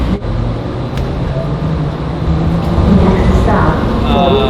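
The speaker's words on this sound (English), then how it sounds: "We got the whole train to ourselves." Interior of a train riding toward Phoenix, a steady low rumble and rattling hum throughout, rising slightly as the car rounds a turn, with someone talking over the noise.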